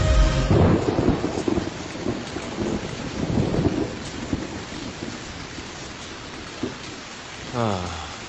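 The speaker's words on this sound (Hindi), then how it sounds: "काफी तेज बारिश हो रही है।" Heavy rain pours steadily with deep thunder rumbling, loudest in the first few seconds before easing to a constant downpour, with a brief voice near the end.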